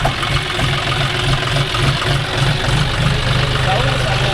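A John Deere 5050D tractor engine idles on farmland with a steady, even, mid-pitched rumble that stays close and loud throughout, while people talk over it.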